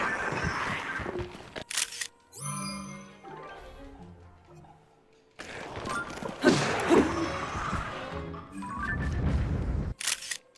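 In-game camera in Zelda: Tears of the Kingdom taking a photo: a sharp mechanical shutter click, then a chiming, tonal stretch, then louder clattering effects, with no talking.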